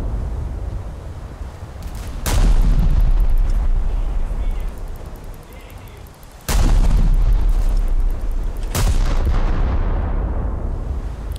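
Naval guns firing armor-piercing rounds in the War Thunder video game, two heavy booming blasts several seconds apart, each followed by a long rumbling roar that slowly fades.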